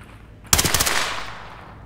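A sharp burst of gunfire from the tactical shooter game Ready or Not, a rapid volley of close, loud shots that rings out into a decaying tail, with no talk over it.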